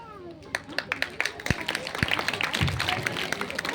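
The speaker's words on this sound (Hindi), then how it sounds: "जोर से ताली बजाओ, जोर से।" Audience clapping at a school drama performance, a dense patter of many hands with sharp individual claps standing out, mixed with voices and crowd noise throughout.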